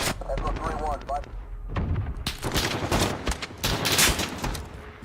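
Rapid shotgun slug blasts from a multiplayer deathmatch video game, a dense burst of loud booming shots over a busy game mix, with a voice talking early on before the firing takes over.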